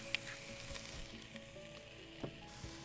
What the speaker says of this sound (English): Our onions, we let them cook for about 3 minutes just to start softening up